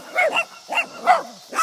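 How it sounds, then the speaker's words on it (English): Two dogs bark nearby in a chase on a street, with four short, sharp barks spaced irregularly over a moment and some slight whimpering tones between them. "Oh my god, there's 2 dogs."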